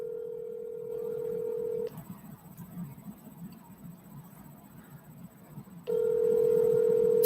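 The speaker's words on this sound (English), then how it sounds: "Answer your phone." Phone call ringing out on a handset in a motel room, two long steady ring tones bracketing a quieter gap of low room hum, the second tone louder and continuing to the end.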